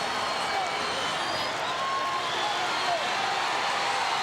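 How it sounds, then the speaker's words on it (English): A large crowd at a wrestling steel cage match roars in a continuous dense wash of cheering and noise, with a commentator talking over it. "Listen to this crowd."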